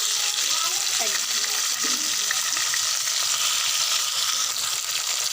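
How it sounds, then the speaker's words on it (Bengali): Fish pieces frying in mustard oil in a wok fill the scene with a dense, steady sizzle. Soft clinks of handling come through, with a faint voice in the background. "এক এক করে মাছগুলো সব আমি তেলের মধ্যে দিয়ে দিচ্ছি ভাজার জন্য।"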